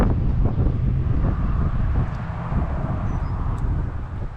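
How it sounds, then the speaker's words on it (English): Wind buffets the microphone at a pond, a steady low rumbling roar with gusty fluctuations and no voices. "It's a little windy today too."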